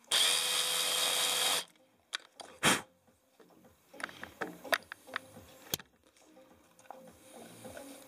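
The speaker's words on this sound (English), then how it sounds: "Use my latest purchase of cheap Lidl's drills and see how we go." A cheap power drill from Lidl runs loud and steady for about a second and a half, then stops, followed by scattered knocks and small handling clatter on a workbench.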